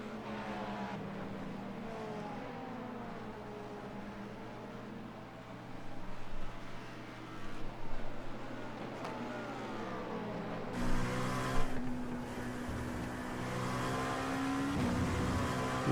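Race cars, a BMW and a Cadillac, in an IMSA racing game, their engines droning steadily close by, with rising and falling pitch sweeps as they shift gears and accelerate.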